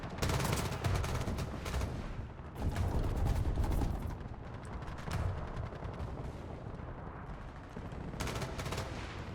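Dense War Thunder battle gunfire, rapid machine-gun bursts and heavy cannon or artillery booms stacked over a constant roar, loudest in two heavy stretches near the start and again near the end.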